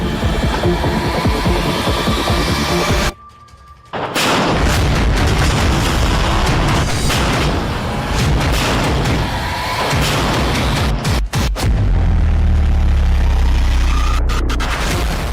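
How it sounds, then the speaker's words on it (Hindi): A BM-27 Uragan multiple rocket launcher fires in a war setting, giving loud, sustained booming roars with a brief lull and sharp cracks near the end, heavy and dense throughout with no voices. "क्यों ये रॉकेट लॉन्चर यूक्रेन की युद्ध भूमि में बेहद अहम भूमिका निभा रहा है?"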